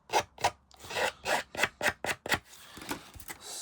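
A scissors blade scrapes along the edge of a card to distress it, giving about ten quick raspy rubbing strokes in a steady rhythm, close and fairly quiet, then a softer trailing scrape with no speech.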